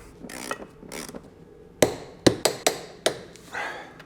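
A wrench torquing M14 bolts on a BMW E31 850 V12 makes a series of sharp metallic clicks and clacks, several in quick succession near the end, with soft rubbing and ratcheting between them, close up.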